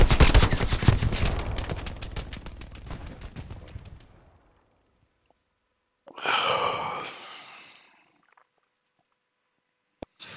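Rapid machine-gun fire in an online World War II-style shooter rattles in a dense burst for several seconds, then fades. A short rushing noise follows, and a single sharp click sounds near the end.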